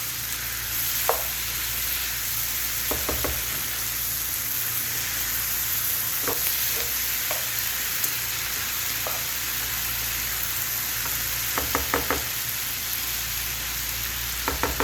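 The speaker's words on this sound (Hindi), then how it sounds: "अच्छे तरीके से मिक्स करते हैं इसको बस, और तकरीबन 2 से 3 मिनट इसको दम पे रखते हैं" Okra (bhindi) masala sizzles steadily in a cooking pan while being stirred, with sharp intermittent scrapes and clicks of the spoon against the pan, some in quick bursts. No speech.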